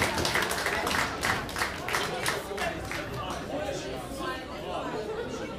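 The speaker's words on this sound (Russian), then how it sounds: "Аплодисменты маэстро" A concert audience applauds the maestro at a show: loud dense clapping that tapers off gradually, with chatter and a voice speaking over it.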